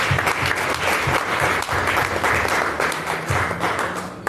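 A congregation at a prayer service applauds steadily, a loud, dense wash of clapping from many hands that keeps going without a pause and fades slightly at the end.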